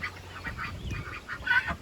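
Backyard waterfowl, geese and ducks, honking in a quick run of nasal calls, close and fairly loud, with several overlapping honks over about two seconds and no talk.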